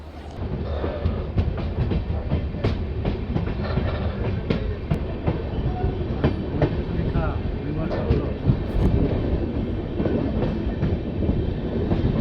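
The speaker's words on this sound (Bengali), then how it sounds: "ফাইনালি নিউ ফারাকা জাংশন স্টেশন ছেড়ে ট্রেন বেরিয়ে যাচ্ছে" Tebhaga Express, a passenger train with new LHB coaches, pulling out of New Farakka Junction station; steady loud rumble with rhythmic clickety-clack of wheels over rail joints and occasional sharp clanks throughout.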